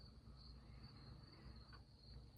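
Faint, continuous high-pitched chirring of crickets in a quiet background, with a small click at the end.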